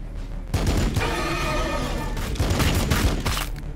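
Rapid bursts of gunfire crackle continuously in the video game Warhammer 40k Battlesector, dense and loud, with brief explosive booms layered over a steady background.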